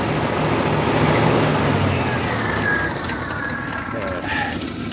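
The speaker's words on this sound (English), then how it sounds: "now she's idling on her own." A Pontiac Firebird engine idles on its own outdoors, a steady low rumble with birds and faint ambient noise around it.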